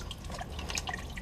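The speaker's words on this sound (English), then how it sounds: "All the water that's going up to the discharge point outside the wall is now filtering back down through into the pit." Water trickling and dripping back down into a basement sump pump pit during a check valve replacement: a steady run of close, splashy drips and small trickles.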